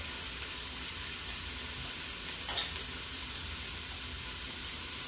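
About 1.5 pounds of cubed beef sears in a pan, giving a steady, dense sizzle and hiss throughout with a faint scrape of stirring partway through.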